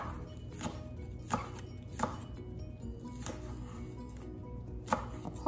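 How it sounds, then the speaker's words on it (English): Knife chopping leftover side dishes on a cutting board, a handful of distinct, evenly spaced chops standing out over a low steady background hum, with no talking. "I'll take my knife and just sort of go over it and just chop."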